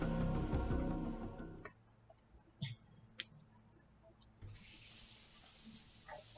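Shower water running in the visual novel Steins;Gate 0: a steady hissing spray that cuts off to near silence, where a few faint taps and clicks sound, then starts again with a bright, full rush.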